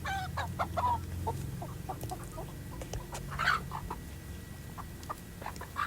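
A tame free-range village chicken clucks repeatedly while being held in hand, its short calls close and fairly loud over a low rumbling background with scattered handling noise.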